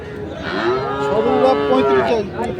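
A Sahiwal-breed cow lets out a long, loud moo close by, with faint background chatter of a busy cattle market in Dinajpur, Bangladesh.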